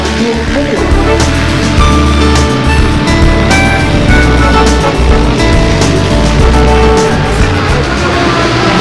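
Vintage motorcycles run on the Paul Ricard circuit during a classic bike event, a loud, continuous blend of engine roar and buzzing from several machines that stays steady and close throughout.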